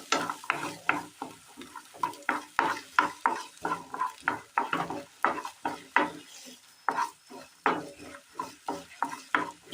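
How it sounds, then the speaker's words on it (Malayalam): Chopped small shallots go into a little oil in the same pan used for tomatoes, with a spoon stirring and scraping in quick repeated strokes over a soft, steady sizzle, close and clear with no talking. "തക്കാളി വഴറ്റിയെടുത്ത അതേ പാനിൽ തന്നെ അല്പം എണ്ണ ഒഴിച്ചു കൊടുക്കാം. ഇതിലേക്ക് അരിഞ്ഞു വെച്ചിരിക്കുന്ന ചെറിയുള്ളി ഇട്ട് കൊടുക്കാം."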